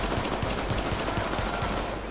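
Rapid automatic gunfire in Tom Clancy's The Division beta, a dense stream of quick shots fired continuously at a steady pace, loud and sustained throughout with no talking.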